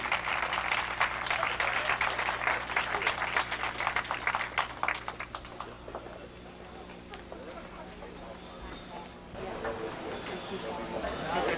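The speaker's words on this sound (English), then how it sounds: "Let's give Doug and his staff a nice round of applause." An audience at a 1984 PBA bowling event claps in a dense burst that fades after several seconds, then a voice talks over quieter background with a brief return of noise near the end.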